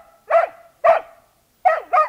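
A dog gives four short, sharp barks, close and loud, two spaced apart, then a pause and a quick pair.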